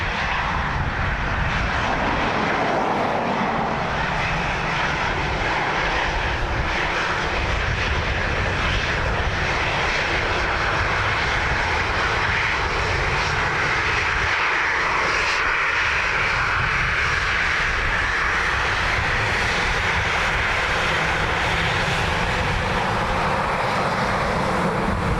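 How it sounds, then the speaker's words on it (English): Airliner jet engines roaring during a go-around at Dublin Airport, a steady broadband rumble and whine that holds loud and constant throughout, heard from a distance with no talk. "Missed approach"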